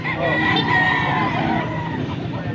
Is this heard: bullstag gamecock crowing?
yes